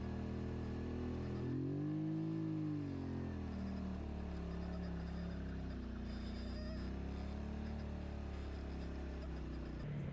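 An ATV engine drones steadily while riding through wooded trails, its pitch rising and falling with throttle changes in a continuous, fairly quiet hum.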